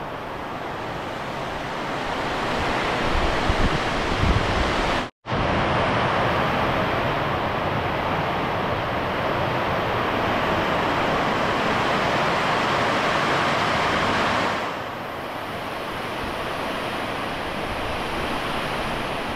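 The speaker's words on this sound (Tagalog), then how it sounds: "Galit na galit yung ulan." Heavy storm rain pours in a dense, steady hiss like rushing water, close and loud, with a brief cut-out and a slight drop in intensity later on, no voices.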